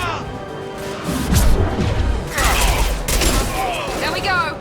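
Gunfire and impact bursts from the video game Mass Effect 2, a dense battle mix of shots and crashes rising in loud waves, with a voice talking over parts of it.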